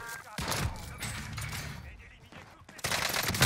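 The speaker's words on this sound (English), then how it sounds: "That's a shooting gun now." Bursts of rapid video-game gunfire crackle in short volleys with brief gaps, while players talk over the shooting.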